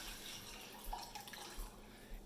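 Three cups of water are poured into a cooking pot, giving a faint, continuous trickle and splash with a few small drips, close by and quiet.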